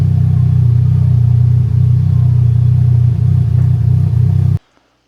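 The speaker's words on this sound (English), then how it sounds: "all of a sudden there is a nasty misfire" An idling car engine, a 07K unit with a misfire on cylinder 1, rumbles loud and close in a steady, slightly uneven drone before cutting off abruptly near the end.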